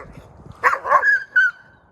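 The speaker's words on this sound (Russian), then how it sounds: "Он постоянно на светлого гавкает, облаивает его именно." A dog barks and yips at close range outdoors, a quick burst of loud, sharp barks and a whimpering cry, with faint talk just before.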